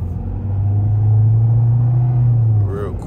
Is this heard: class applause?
no